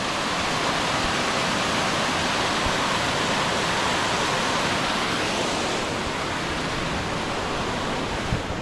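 A waterfall in Georgia roars as a dense, steady rush of falling water, loud and close, with no voices over it.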